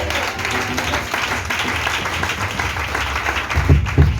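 A church congregation breaks into sustained, fairly loud applause, dense clapping from many hands with a few faint voices mixed in, rising slightly toward the end.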